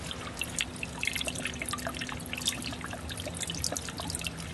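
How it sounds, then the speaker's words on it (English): Steady, fast bubbling and trickling of water from a small adjustable aquarium air pump in a DIY hydroponics system, a continuous stream of small pops and drips close by with a faint low hum underneath. "this little Eco Air adjustable pump"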